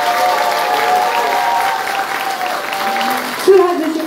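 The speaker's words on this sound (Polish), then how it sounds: "Poproszę jeszcze raz o wielkie brawa." Audience applause for a folk band at an outdoor folk music event, steady clapping from a crowd throughout with a host's voice heard over it near the end.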